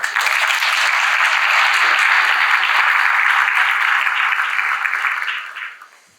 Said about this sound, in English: Let's clap for Jane.